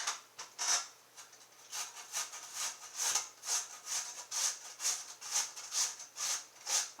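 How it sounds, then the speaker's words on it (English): Cucumbers are grated on a hand grater for relish, a rasping scrape repeated in a steady back-and-forth rhythm of about two strokes per second, close and clear with no talk. "what you basically do is just use your grater and grate"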